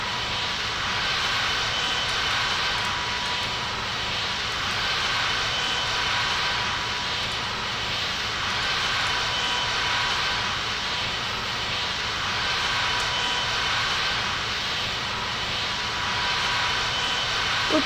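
Aircraft engine at full power in a pilot training simulator game, a loud steady turbine-like roar holding constant with slight slow swells, no voices.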